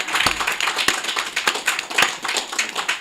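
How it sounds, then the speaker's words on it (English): A small audience gives a round of applause at a community spotlight interview, scattered individual claps with distinct sharp hits over a steady patter, moderately close and fairly quiet, with no talking. "Can we get a round of applause for that?"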